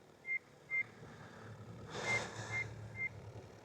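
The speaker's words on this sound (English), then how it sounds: "Beeping away, telling me I'm mad." Short electronic beeps from a lane assist system sound at a steady rhythm, several evenly spaced tones over a low rumbling background with a brief hiss in the middle.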